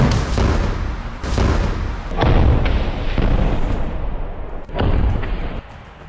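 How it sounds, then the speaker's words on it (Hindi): Rocket launcher fire and a large explosion: several heavy booming blasts in close succession, loud and near, each with a rumbling tail, the last ending more abruptly. "रॉकेट लॉन्चर फायर कर देता है, जिसमें बहुत बड़ा धमाका होता है।"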